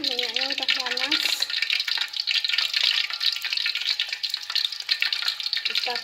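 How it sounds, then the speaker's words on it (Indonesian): Battered balls fry in hot oil with a bright, crackling sizzle that runs continuously, while a voice is briefly heard near the start. "Kita goreng kayak gini ya"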